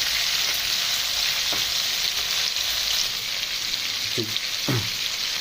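Chicken liver sizzles steadily in a hot pan, a bright continuous frying hiss with a few soft clicks of a utensil near the end.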